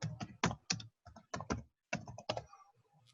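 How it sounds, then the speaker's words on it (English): Typing on a computer keyboard, with close, crisp bursts of keystrokes in irregular clusters separated by short pauses, heard alone without talk. "Are you typing?"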